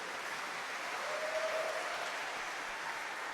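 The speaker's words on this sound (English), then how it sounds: "We could use some applause here." Audience applause at a live radio show, a steady, fairly faint wash of clapping from a crowd that holds evenly throughout.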